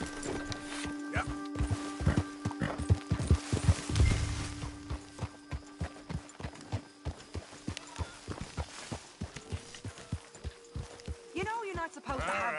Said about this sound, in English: You know you're not supposed to have that horse in simmer town.